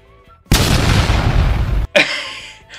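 A sudden loud roaring blast of a video game nuke explosion holds for over a second, then cuts off, followed by a brief rumbling echo.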